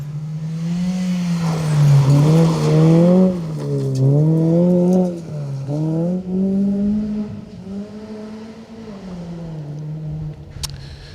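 A 1600 Mini Cooper rally car on a forest stage, its engine note loud and close, revving and shifting through gears with rising and falling pitch as it passes and fades away over about eleven seconds.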